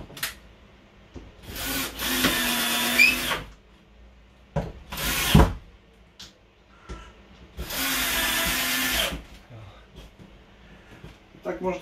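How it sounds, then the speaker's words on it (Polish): A cordless screwdriver whirs in several bursts of a few seconds each, driving screws into a camper trailer up close, with quieter pauses and clunks of handling between runs. "Wkładamy dwa skręty. Jeden tu. Drugi tu. Bierzemy wkrętareczkę."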